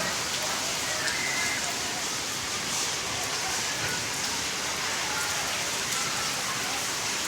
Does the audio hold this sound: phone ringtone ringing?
no